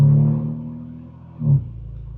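A BMW G80 M3 gives a deep, steady engine rumble while driving slowly through a quiet neighborhood, easing off and then swelling briefly as it pulls again.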